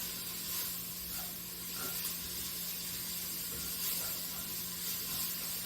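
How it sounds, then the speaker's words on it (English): Onions caramelizing in a pan for cowboy beans give a steady soft hissing sizzle, even and unbroken throughout, quiet and close with no voices. "I'm going to add to these onions as they're in here getting all caramelized"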